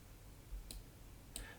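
Two sharp mouse clicks during work in image-processing software on a computer, close and quiet, spaced a little over half a second apart against faint room hiss.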